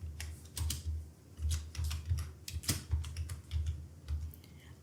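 Keys clatter in quick bursts as a company name is typed into an Excel spreadsheet on a computer keyboard, close and fairly loud, with short pauses between words and no talking.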